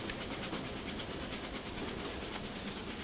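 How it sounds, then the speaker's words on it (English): A steady rumbling rattle of a train rolling along the tracks, continuous and fairly loud, with a faint repeating clatter and hiss. "As the train rattled and vibrated in rhythm to the joints and the tracks, Geoffrey gradually dozed to sleep."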